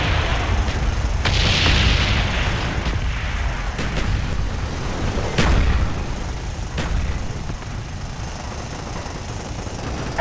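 Napalm strike in Call of Duty Black Ops team deathmatch, with rumbling explosions and booming blasts over a continuous roaring game din, a few sharper bangs standing out midway.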